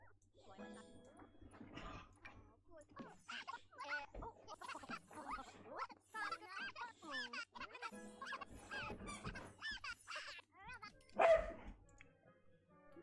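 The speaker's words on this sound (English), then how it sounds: "My dogs are loud." Dogs bark in the background, fairly faint and scattered, mostly under steady close talk from a person playing a video game.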